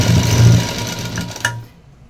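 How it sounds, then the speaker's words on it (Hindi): Sewing machine stitching a straight seam on a small doll dress, a close rapid whirring rattle that slows and stops with a final click after about a second and a half. "अब दोनों को मिला के यहाँ एक सीधी सिलाई लगाएंगे।"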